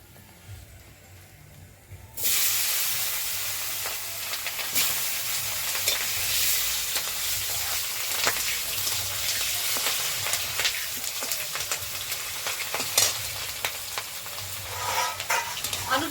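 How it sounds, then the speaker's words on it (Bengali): Potatoes drop into a hot pan and start frying, a sudden loud sizzle that settles into a steady crackling hiss with occasional stirring clatter, close and without talk. "প্রথমে আমি আলুটা ভেজে নেব"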